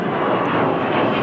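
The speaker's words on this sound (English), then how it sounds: "there's always a jet every time I'm making a video" A jet aircraft passes overhead above a small rural town, a steady broad roar that fills the whole short moment without pause.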